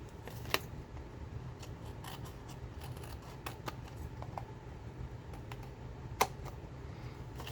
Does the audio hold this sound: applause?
no